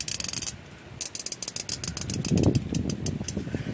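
Ratchet with an 18 mm socket clicking in quick rapid bursts on the front differential fill plug of a GM truck, close and fairly loud, with short pauses between runs of clicks and no talking.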